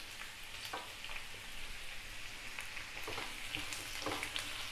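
Chopped onions fry over a medium flame in oil, giving a steady, quiet hiss and crackle with occasional faint stirring scrapes.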